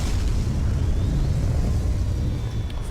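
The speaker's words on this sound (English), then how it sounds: "So I'm going to send the rocket off." Rocket launching in the video game Surviving Mars, a loud, steady deep roaring rumble that holds throughout without a break.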